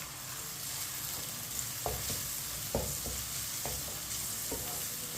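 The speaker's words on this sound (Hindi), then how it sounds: "प्याज को मिक्स कर लेंगे" Chopped onions with whole cumin seeds frying in a pan and stirred, a continuous sizzle marked by a few distinct spoon scrapes, close at moderate volume.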